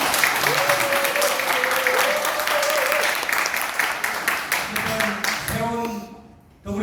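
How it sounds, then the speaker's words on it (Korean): Party members at a Democratic Party provincial office lecture in Gyeongnam give loud, sustained applause that fills the room for about six seconds, with a voice speaking through it before it stops abruptly. "다시 한번 큰 박수 한번"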